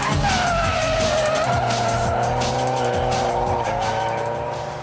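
A Nissan drifting at a road-legal drift event gives a loud, continuous tire squeal over a revving engine, the screech wavering in pitch for several seconds without pause.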